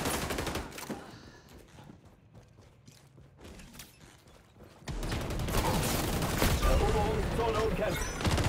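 Vector 45 submachine gun fire in XDefiant, sparse shots at first, then dense, loud sustained bursts of automatic fire with impacts and game voice callouts over the last half.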